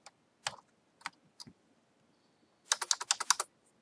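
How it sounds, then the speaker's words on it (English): Someone types on a computer keyboard, a few sparse, separate key clicks followed by a quick rapid burst of keystrokes, close and fairly quiet, with no talking. "So I'm going to type in my name"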